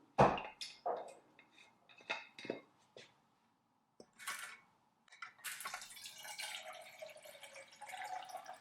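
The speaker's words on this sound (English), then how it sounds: "now we'll fill half a liter of water in it" Half a liter of water poured into a camping stove pot, starting with a few separate splashes and drips, then a steadier close trickle of filling toward the end.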